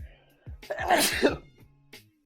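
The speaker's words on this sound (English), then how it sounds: "hold on, I gotta sneeze" A single loud sneeze bursts out in the middle, preceded by a sharp inhale, with brief talk before and after.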